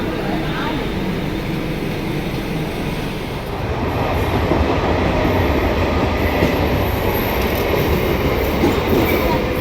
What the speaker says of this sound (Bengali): ট্রেনটা ছেড়ে দিতেছে।